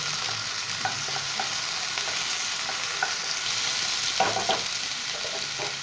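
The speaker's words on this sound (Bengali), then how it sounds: "এবার এগুলো ভালো করে ভেজে নেব" Soaked urad dal frying in a pan for lemon rice, giving a continuous loud sizzling hiss with soft, scattered spoon scrapes and stirs close by, no one speaking.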